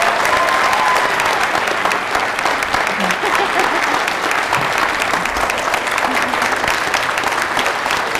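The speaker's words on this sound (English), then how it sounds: "Can we have another round of applause" A theatre audience gives loud, dense, sustained applause after a dramatic presentation, an even roar of many hands clapping with a few faint voices mixed in.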